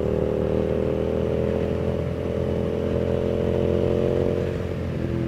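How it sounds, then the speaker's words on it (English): Hyosung GT650 V-twin motorcycle decelerating off throttle under engine braking, a steady droning exhaust note that slowly falls in pitch, loud and continuous throughout. "as soon as you let off the throttle, you hear that engine brake, and it starts to pull it down"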